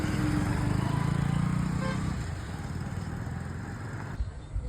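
A repaired vehicle's engine runs after being started, a close, steady idling hum that eases slightly partway through.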